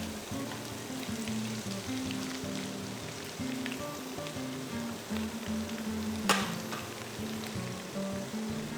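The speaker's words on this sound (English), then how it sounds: "Fry the aromatics, that's the green onions, the rest of the ginger," Green onions, ginger and onions frying in hot oil in a Chinese chicken dish: a steady, dense sizzle throughout, with one sharp clink partway through.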